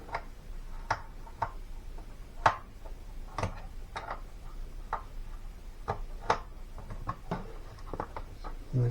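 Small metallic clicks and ticks from a wrench working a tight fastener while fitting an Intellitronix digital dash, coming in irregular light taps close by with no talk.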